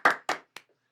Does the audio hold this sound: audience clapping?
yes